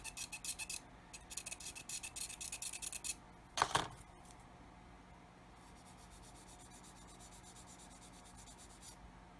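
Sandpaper rubbed back and forth over a mold seam on a plastic part from a 1/24 scale Airfix F6F-5 Hellcat kit, quick close scratchy strokes in bursts with a short pause between.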